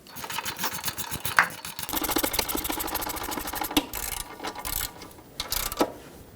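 A hand ratchet tightens rear brake caliper bolts on a 2015-2020 GMC Yukon, giving steady rapid clicking strokes close up, with a few brief louder knocks and short pauses between runs.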